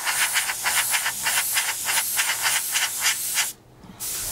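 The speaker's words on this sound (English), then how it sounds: "we're going to spray on our first coat like so" An airbrush sprays a light, misty first coat of paint on a model for pre-shading panel lines, a close hiss pulsing in short bursts, then a brief pause and resumption.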